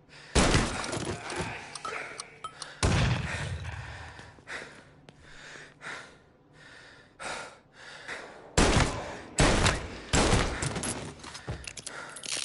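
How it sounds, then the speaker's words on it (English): Gunfire and explosive blasts in the Mafia video game, with a grenade going off among several loud, sharp bursts separated by quieter gaps and faint breathy sounds. "Grenade!"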